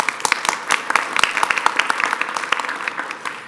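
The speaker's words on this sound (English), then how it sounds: "Let's give her a round of applause." Applause from a conference audience, a steady patter of many hands clapping at close range for a few seconds with no voices over it.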